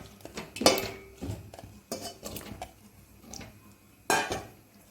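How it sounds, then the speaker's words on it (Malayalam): Ash gourd and cucumber pieces drop into a curry pot for a Kerala-style ash gourd and drumstick curry, giving several sharp clinks and knocks against the metal pot at close range. "അതിലേക്ക് നമുക്ക് കഷ്ണങ്ങൾ ഇട്ട് കൊടുക്കാം കുമ്പളങ്ങയും വെള്ളരിക്കയും കൂടി ഇട്ട് കൊടുക്കാം"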